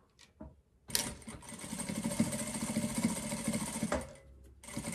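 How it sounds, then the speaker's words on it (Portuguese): Close, steady whirring and buzzing of a sewing machine stitching a seam around a hooded blanket, starting abruptly and running about three seconds, with faint handling clicks before and after and no talking. "E agora eu vou passar uma costura toda a volta, tá?"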